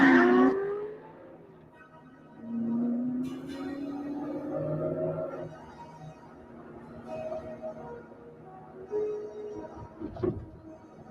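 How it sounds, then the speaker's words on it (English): A car engine starts up and pulls away during a tense, shouted argument, the motor rising and revving over a few seconds, loud and close, fading as it drives off. "Start the goddamn car, Joel!"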